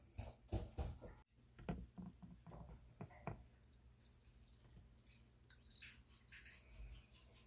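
Rice being washed by hand in the non-removable pot of an electric rice cooker inside a car, with irregular close drips, splashes and patters of water rising and falling throughout, no talking.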